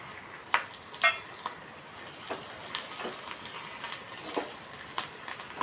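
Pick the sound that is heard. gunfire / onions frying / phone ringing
onions frying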